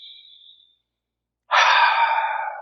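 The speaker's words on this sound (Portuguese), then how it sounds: "respirando profundamente." Deep breathing during a guided meditation: a soft exhale fades out, a second of silence follows, then a loud, close, breathy inhale or exhale runs to the end. No talking.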